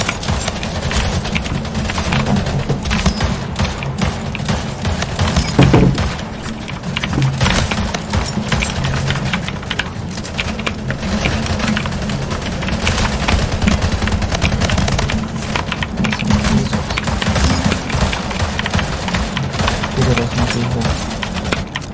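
Rapid SMG fire in an online shooter game runs almost unbroken through the stretch, loud and dense, with a player talking over it now and then.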